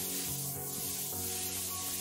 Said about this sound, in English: Quick, the bug spray!